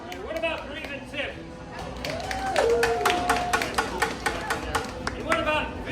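Outdoors at Disneyland, an audience claps to vote for Breve and Tim. Many sharp claps rise in the middle while voices shout over the applause.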